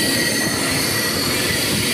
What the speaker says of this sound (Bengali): আমাদের ট্রেন এখন বেলুড় মঠের দিকে এগিয়ে চলেছে অত্যন্ত ধীর গতিতে